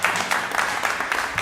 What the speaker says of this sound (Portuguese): gostaria que os presentes batessem uma forte salva de palmas para o professor.